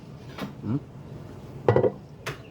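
Pancit noodles being tossed with vinegar in a dish, giving a few soft scraping and clinking utensil sounds against the plate in short separate bursts, close and moderately loud.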